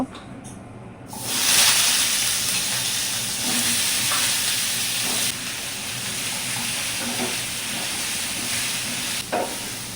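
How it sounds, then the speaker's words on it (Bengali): Chopped ridge gourd hits hot oil in a wok for a shrimp mash dish, bursting into a loud, close, continuous sizzling hiss after a quieter first second, with occasional stirring clicks. "কড়াইয়ের মধ্যে আবারও তেল দিয়ে আমি কেটে রাখা ঝিঙ্গাগুলিও ভেজে নেব"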